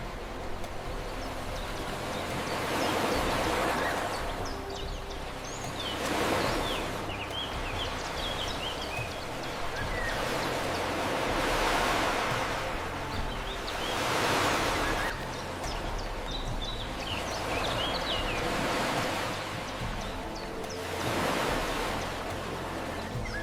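Ocean waves break on a beach at night, a steady surf wash that swells and recedes roughly every five seconds, continuous and moderately distant with no voices.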